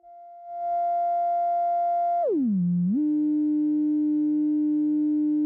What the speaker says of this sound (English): I'm going to send the same sine wave signal into both inputs on the top channel of the Vinca, which is a 4-quadrant multiplier